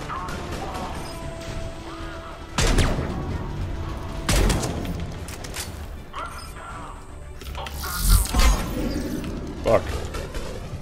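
Gunfire and crashing impacts during a Citadel attack in the shooter game Mass Effect 3, sharp bursts and smashes scattered across the scene under a player's talk.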